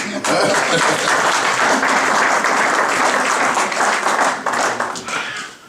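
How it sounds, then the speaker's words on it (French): An audience at a church faith seminar breaks into loud, sustained applause, dense clapping filling the hall before tapering off near the end. "Mais il faut acclamer, non?"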